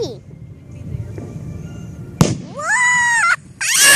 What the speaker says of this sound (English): I'm very excited to get the fireworks.